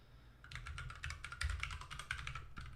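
Rapid, steady keystrokes clatter on a computer keyboard during a live coding stream, close and alone, a dense run of taps after a brief pause.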